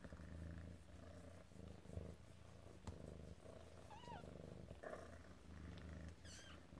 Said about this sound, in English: I love how she purrs so much.